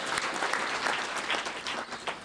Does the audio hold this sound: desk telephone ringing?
no